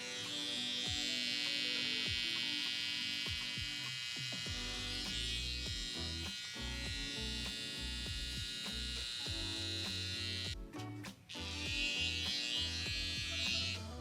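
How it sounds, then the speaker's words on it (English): Electric hair clippers buzz steadily up close while their corner cuts a freestyle hair design, holding a continuous high hum with a brief dip near the end. "As you can see, I'm just using the corner of my clippers."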